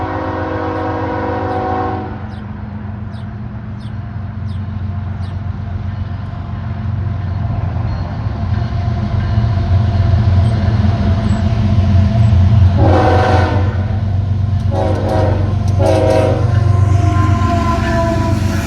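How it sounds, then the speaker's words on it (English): A Norfolk Southern intermodal freight train sounds its horn in Porter, Indiana, over the heavy, continuous rumble of the passing train; long horn blasts open the stretch and return in shorter bursts later. "That horn right there, that's not random. It's a signal."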